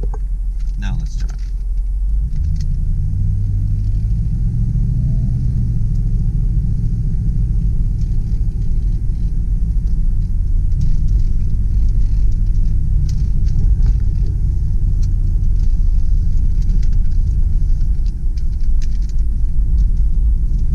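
A 1993 Jeep Grand Cherokee Grand Wagoneer Limited Woody with full-time four-wheel drive pulls away and cruises, its steady low engine and road rumble filling the cabin from start to finish.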